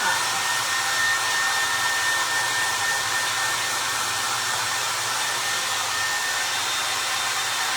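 A hair dryer blows steadily and alone as it dries freshly painted artwork on a tin can, a constant loud airy whoosh with a faint whine that never changes pitch.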